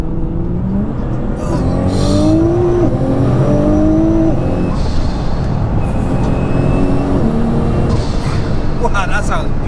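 An 1100bhp JM-Imports Nissan GTR on medium boost, engine loud and close, accelerating hard through rising gear pulls with short shift breaks on an open road.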